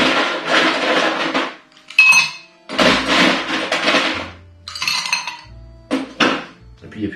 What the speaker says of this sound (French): On vient rajouter notre glace.